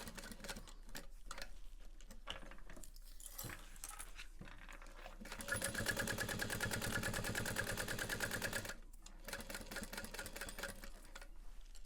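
A sewing machine top stitches a handbag in quick rapid clatters, with a steadier, louder burst of stitching in the middle, close by and with no talking.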